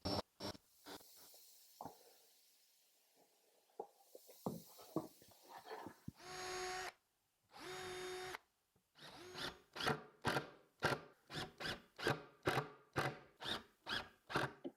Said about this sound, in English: And now I want to just countersink